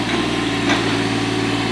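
A tractor engine runs at a steady, loud, close drone while digging a trench in the woods, with no talking over it.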